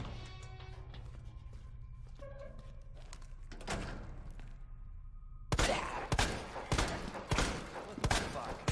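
Gunfire in the video game Resident Evil 2 Remake: after a quieter stretch of low game ambience, a rapid burst of loud shots and impacts rings out in the final few seconds.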